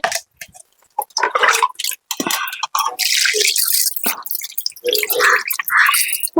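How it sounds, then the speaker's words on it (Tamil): Water splashing and pouring in irregular bursts while cooking a traditional chicken gravy, with short pauses between gushes and drips, close by and fairly loud. "தண்ணி ஊத்து"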